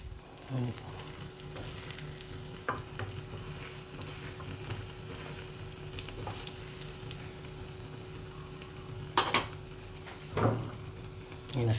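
Beaten eggs for a Thai omelette fry in hot oil with a soft continuous sizzle, broken by a few louder clattering knocks from a strainer and pan, while someone talks intermittently.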